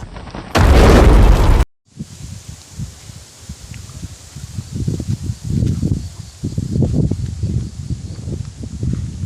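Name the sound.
missile explosion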